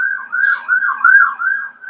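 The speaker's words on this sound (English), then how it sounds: "I don't know if y'all can hear the siren going on." A wailing emergency siren sounds outside, rising and falling in steady repeated sweeps, loud and continuous with no other sounds over it.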